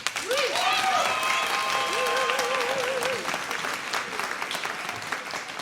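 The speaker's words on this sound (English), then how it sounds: "round of applause for her, please" Audience applause at an a cappella concert, loud continuous clapping mixed with a cheering voice rising and falling near the start, then thinning out and fading over the last seconds.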